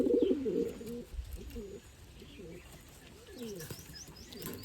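Fantail pigeons coo with low, rolling calls while they feed on scattered grain, loudest at the start and then softer and repeated. Small chirps from other birds come through faintly in the background.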